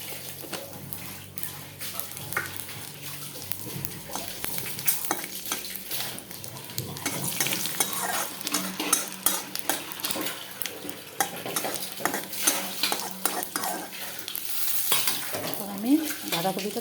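Cumin seeds crackle and fry in a pan while a spoon stirs and scrapes steadily, with a busy, close sizzle. The sound builds slightly toward the end, and no one speaks over the cooking.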